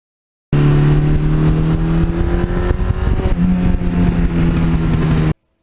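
A 1982 Suzuki GS1100E old-school superbike's engine revs loudly up close, a strong steady roar with a brief throttle change midway before it cuts off.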